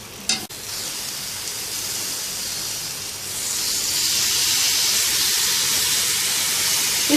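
Spicy Mexican-style chicken grills on a pan with a steady hissing sizzle that grows louder and fuller partway through. A sharp clack comes near the start, and no one speaks.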